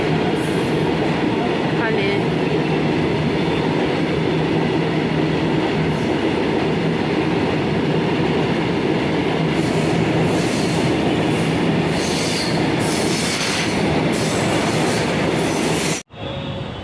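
A train rumbles loudly through Maninagar railway station, a continuous heavy roar of wheels and carriages with rhythmic clacking and faint squeals, cutting off abruptly near the end.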